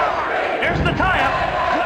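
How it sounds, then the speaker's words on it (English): A wrestling arena crowd from the N64 game WWF Attitude roars and cheers continuously, loud and dense, with game sound effects and commentary mixed over the noise. "The fans are going crazy!"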